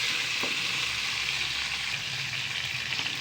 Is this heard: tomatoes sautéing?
yes